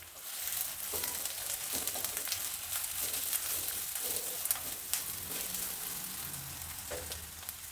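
Sliced onion and green chillies frying in oil for vegetable fried rice, a soft, steady sizzle with occasional light stirring, heard alone without talk.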